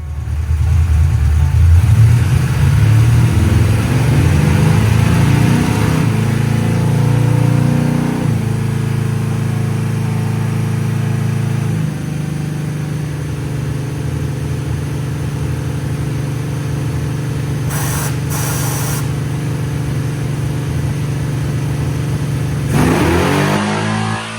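A carbureted car engine with a nitrous kit is held at high, loud revs on a chassis dyno, droning steadily with shifts in pitch as the run progresses, then winding down at the end.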